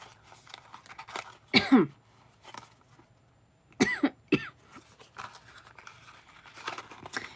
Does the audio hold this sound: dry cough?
yes